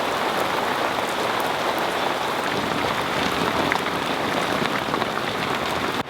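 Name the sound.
torrential rain from a thunderstorm on a boat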